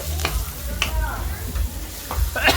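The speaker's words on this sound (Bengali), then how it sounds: "মশলাটা ভালো করে কষিয়ে নেব" Spice paste sizzles in a pan for a Bengali potato, cauliflower and catla fish curry, a close, crackling fry broken by stirring scrapes, with faint voice sounds underneath.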